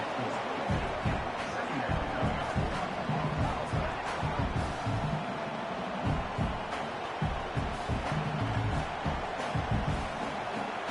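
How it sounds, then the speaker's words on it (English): Stadium crowd in a college football video game, Miami versus Clemson, a dense steady roar of cheering fans filling the background while a commentator talks over it. "This crowd bringing the energy and noise early."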